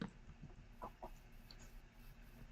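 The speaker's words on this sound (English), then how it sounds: "Okay, chicken there." Minecraft chicken giving a few soft, short clucks at a quiet level over faint game ambience, with no talk.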